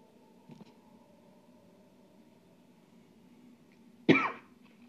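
Two coughs from a person, a faint short one early and a louder, sharper harsh cough near the end, over a quiet low background hum.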